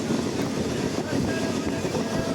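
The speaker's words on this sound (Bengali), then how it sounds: "নৈহাটি স্টেশন থেকে ট্রেন ছেড়েছিল আর এখন চাকদায় ঢুকছে।" A crowded local train pulls into Chakdah station, its steady broadband rumble and rolling noise filling the space continuously from start to finish without clear pauses.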